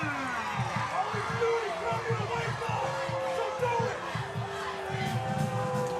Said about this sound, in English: Whitehouse crowd understandably getting a little testy here